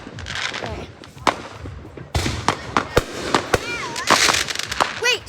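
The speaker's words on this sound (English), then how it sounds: "I'm recording fireworks." Distant fireworks bursting repeatedly, sharp pops and booms spaced irregularly, with whistling, warbling rockets rising between them and people talking nearby.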